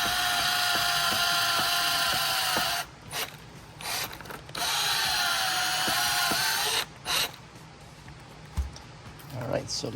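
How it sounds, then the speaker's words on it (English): Bursts of a handheld power drill boring a hole while installing a Canyon rear side LED reflector kit, high whining spins of a few seconds each separated by short pauses. "let's go ahead and get this drilled out"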